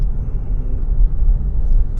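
A Chevy SS with aftermarket headers idles with a loud, steady low rumble, close by and alone with no voices.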